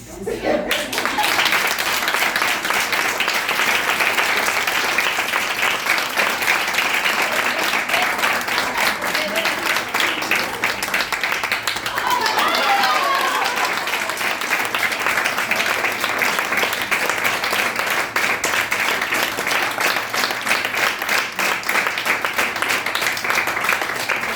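A concert audience bursts into sustained, dense applause after a young performer's bow at a children's recital in a house-museum. The clapping stays loud and even throughout, with a faint voice briefly audible beneath it.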